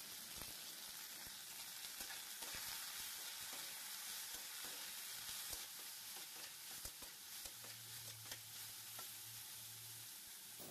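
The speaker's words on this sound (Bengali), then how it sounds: "উচ্ছেটাকে ভালোভাবে ভেজে নেব।" Sliced bitter gourd fries in hot oil with turmeric and salt, a dense continuous sizzle punctuated by the scrape and clack of a spatula stirring the pan, with a brief low hum toward the end.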